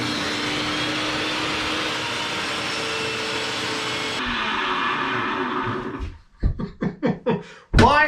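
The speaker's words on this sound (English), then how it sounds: "put some more dust in the vacuum cleaner" A vacuum cleaner runs in a wooden boat restoration workshop, a loud steady whining roar for several seconds that cuts off, followed by a few thumps and short bursts of noise.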